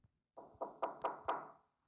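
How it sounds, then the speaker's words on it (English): Knocking on a door in an old house: five quick, hollow, fairly faint raps in an even rhythm, with no voices. "I hear knocking again."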